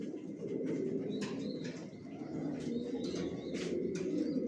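Large pigeons coo steadily in a loft, a dense low murmur of overlapping calls from several birds with faint chirps and wing flutters above it.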